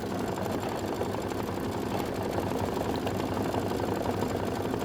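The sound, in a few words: machine stitching a quilt block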